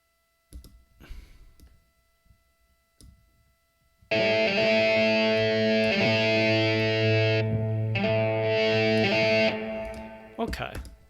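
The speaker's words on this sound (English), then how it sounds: "Maybe I can add in a distortion or overdrive." After a few quiet clicks and faint handling noises, a loud electric guitar chord with distortion or overdrive effect rings out and sustains for several seconds, then cuts off.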